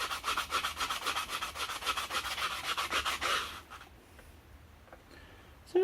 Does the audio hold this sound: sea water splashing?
no